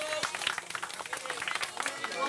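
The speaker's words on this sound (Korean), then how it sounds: "다 도움을 주신 그분들에게 박수하겠습니다" A small group claps in thanks during a gathering with Korean youths, a brisk patter of hands with voices mixed in around the clapping.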